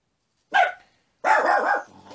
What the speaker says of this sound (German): Ihr habt ja gehört, mein Hund hat mal wieder gebellt